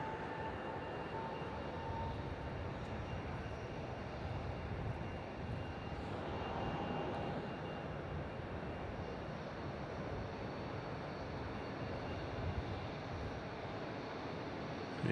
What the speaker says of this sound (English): Jetstar rolling out at 27